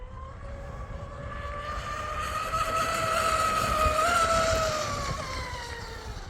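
An Oxidean Animal twin cat RC boat with 4082 2200kv motors and a 200a ESC buzzes across tidal water into wind and current, a steady high motor whine that rises and falls slightly as it passes at a distance.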